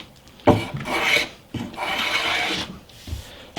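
Hand tool chamfering the timber edges of a workbench against the grain, heard as two long rasping strokes, close and fairly loud, followed by a softer short scrape, with no talking.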